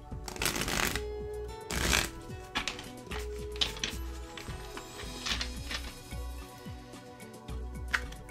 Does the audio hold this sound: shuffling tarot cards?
yes